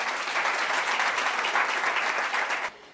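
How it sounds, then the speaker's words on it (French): Studio audience applauding for a colleague on a Senegalese insurance talk show, dense steady clapping that stays loud throughout before cutting off abruptly near the end. "des applaudissements pour Mamadou Dramé"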